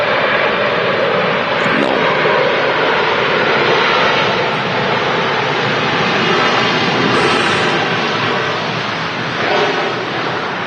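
A passenger jet landing at Manchester Airport on runway 23 right, its engines a loud, steady broadband roar that swells slightly and holds for the whole stretch, with a brief voice near the end.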